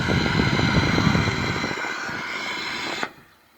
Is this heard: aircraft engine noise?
yes